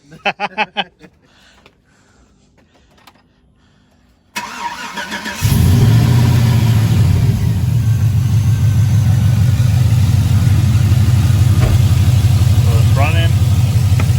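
A pickup truck with a swapped-in 5.3 engine, aftermarket headers and intake, cranks and fires up, then settles into a loud, steady idle close by after a few seconds of quiet clicks and rattles.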